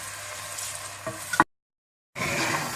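Sliced onions with salt sizzle steadily in hot oil in a pan, with a couple of light stirring knocks, then a sudden silent gap before the frying resumes.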